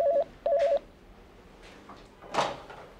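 Telephone rings in a home with two short warbling trill bursts, loud and close, followed by quieter rustling and a soft knock.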